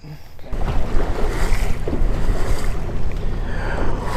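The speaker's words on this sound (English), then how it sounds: "The wind is really getting up." Strong wind gusting across Lake Fork, heard from a bass fishing boat: a loud, steady, buffeting roar of air over the microphone, with rough water beneath and no voices.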